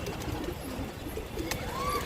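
Pigeons, including a newly arrived spotted (motiya) pigeon, coo softly in a loft, with low murmuring calls blending into steady background noise over a couple of seconds.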